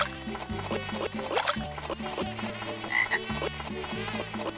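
A bullfrog croaks in a Magic School Bus animal video game, its sounds set against steady, rhythmic game music with low pulsing notes throughout, no talking.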